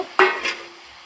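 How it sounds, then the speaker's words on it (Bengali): A utensil stirs jujube pickle with jaggery in a cooking pan, two short scraping strokes close by with a faint sizzle fading between them, no talk. "গুড় দিয়ে এখন নাড়াচাড়া করব"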